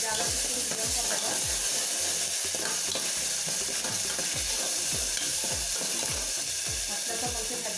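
Ginger-garlic paste fries over medium heat after cumin seeds in a pan for a mixed vegetable curry, a loud continuous sizzle and hiss with repeated scraping stirs throughout and no speech.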